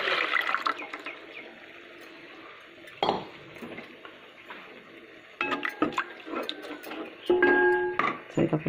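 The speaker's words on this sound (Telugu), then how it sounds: "చింతపులుసు పోసుకున్నాం" Tamarind juice poured into a cooking pot of boiling vegetables, a liquid splash and gurgle with clinks of pot and utensils, close and moderately loud with no talking.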